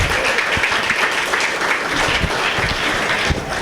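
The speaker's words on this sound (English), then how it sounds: "You guys can clap for them, sure" A comedy-competition crowd applauds the venue staff, a dense, even burst of many hands clapping together for a few seconds, fairly close and loud, with no voices over it.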